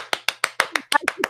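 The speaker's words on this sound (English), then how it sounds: "Greg clapping." A single person, Greg, claps eight times in a quick, even rhythm, close and crisp, with each clap sounding alone and no talking over it.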